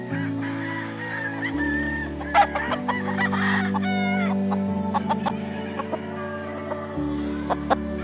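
Sweater gamefowl roosters crow repeatedly at a gamefarm, several long cock-a-doodle-doo calls overlapping with sharp clucks and short squawks, close and fairly loud over a steady low hum.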